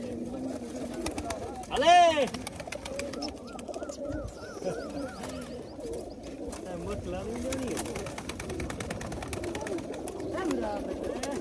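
Pigeons in a large cage, soft repeated cooing and throaty calls near and around, with occasional wing or cage rattles and people talking over them now and then.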